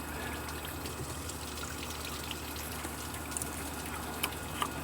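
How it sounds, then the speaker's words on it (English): Coolant dribbles from a disconnected coolant line on a Sprinter-based Winnebago RV, a faint, steady trickle against low background noise with a couple of small ticks near the end. "We're gonna disconnect this coolant line. There will be a little bit of coolant that's gonna leak out."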